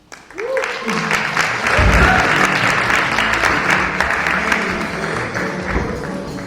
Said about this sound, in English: can we just give another round of applause for Janice?